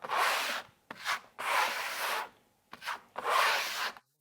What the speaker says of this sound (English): The key is to always keep pressing the trowel very firmly at all times so that you can indeed hear it clearly.